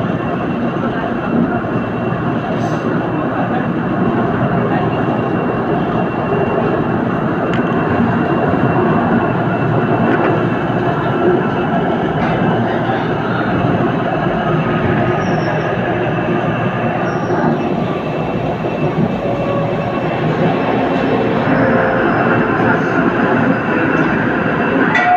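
A cab ride on an LRTA Line 2 light rail train between Anonas and Katipunan stations, with a loud, continuous rumble of wheels and motors and faint squeals along the track.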